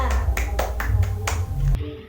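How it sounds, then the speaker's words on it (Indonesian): A classroom group claps hands together in a short burst of about half a dozen sharp, evenly spaced claps that stop abruptly, with a low background hum underneath. "Tepuk tangan semuanya"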